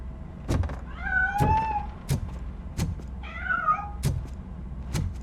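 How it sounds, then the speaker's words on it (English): A cat in Robocop Rogue City meows twice, two drawn-out wavering cries separated by sharp clicks and knocks, fairly close with no talk. "That cat must be hiding inside."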